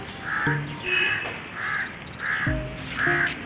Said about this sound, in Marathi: खातो काय रे कावळा मक्का? मक्याचे दाणे खातो.